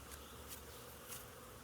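Agitated honeybees at an opened hive fill the air with a steady, dense, close buzzing drone, swelling briefly as individual bees fly past.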